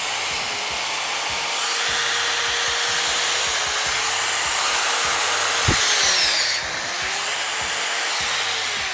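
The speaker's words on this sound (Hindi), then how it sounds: "गाइस इस ड्रिल मशीन को चलाकर देखते हैं।" A 280 watt electric drill powered from a homemade 700 watt inverter whines steadily at full speed, a loud continuous motor hum and buzz with faint rattles running underneath.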